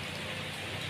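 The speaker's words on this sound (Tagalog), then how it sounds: "Nag-ulan man, uy." Steady rain falls throughout, a dense continuous hiss of drops striking surfaces close by, with no voices over it.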